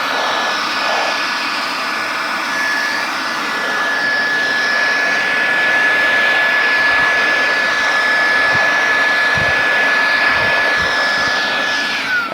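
Compressed air blasts steadily across dusty electronics and circuit boards on a workbench, a loud, continuous close hiss with a faint high whine running through it and no voices.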